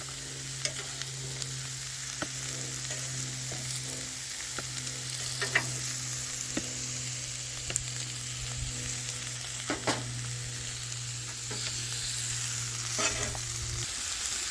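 Chicken, beef and vegetables for molcajete fajitas sizzle steadily on a griddle, with occasional clicks and scrapes of a spatula turning the food and no talk.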